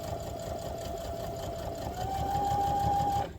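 Sewing machine running steadily while top stitching a harvest apron, a close, continuous whirring hum that rises slightly in pitch and loudness near the end before stopping.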